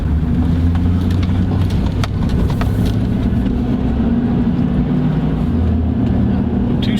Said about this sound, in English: You can hear those pistons swapping holes.